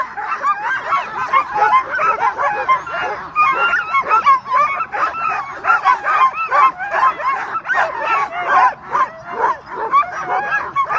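Sled dogs at the start of the Knik 100 sled dog race in Alaska, a close, loud, excited chorus of yips, barks and whines overlapping continuously, with faint human voices under the din.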